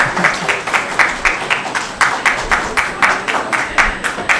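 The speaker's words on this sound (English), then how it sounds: "A very big round of applause for this session" An audience at a medical session applauds, loud and close, with clapping that swells in rhythmic, regular bursts throughout.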